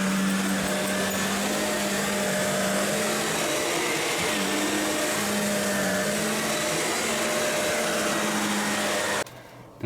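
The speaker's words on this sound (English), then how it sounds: "Now this vacuum has a lot of suction." Shark Navigator Lift Away upright vacuum cleaner running near a bed, a loud steady whining hum with a low drone that cuts out abruptly near the end, no speech.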